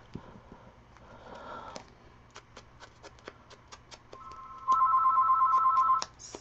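A home telephone rings indoors in a crafting room, one sustained electronic ring burst near the end, preceded by faint ticks and small handling clicks, with no talk.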